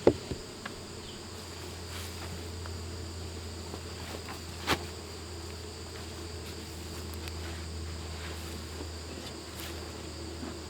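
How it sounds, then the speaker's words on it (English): Bees crowd a hive rescued from a wall, making a steady low buzz that sits under faint close knocks and scrapes from handling the hive. "I can hear a lot of bees"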